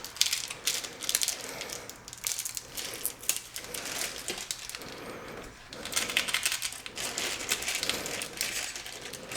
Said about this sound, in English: align the holes, and install the 6 screws